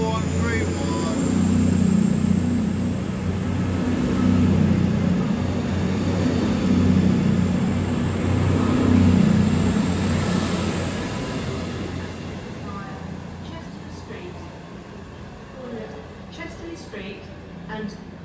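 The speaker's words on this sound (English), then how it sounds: "This train has 5 coaches." A five-coach passenger train at Durham station gives a loud, sustained rumble with high-pitched wheel or motor whine, then slowly fades as it moves away.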